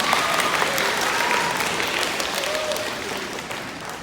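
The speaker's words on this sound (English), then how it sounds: "Give them a little round of applause" A school audience applauds trumpet players, two seniors, as they come up for an instrument demonstration: a steady, fairly loud wash of clapping that slowly tapers, with no one speaking over it.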